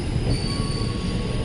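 A KRL commuter train with ten cars at Tambun station gives a steady, loud rumble of rolling wheels and rail noise, with a faint high squeal running through it and no voices.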